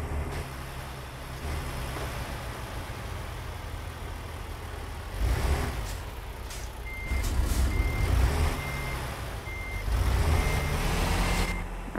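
Reversing alarm on a heavy hauler truck in American Truck Simulator beeps at an even pace over a steady, low engine rumble, with louder engine surges partway through.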